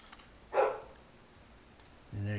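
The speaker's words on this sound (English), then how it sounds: "And there you can hear my dogs outside." A single faint dog bark sounds from a distance outside, then a voice begins talking.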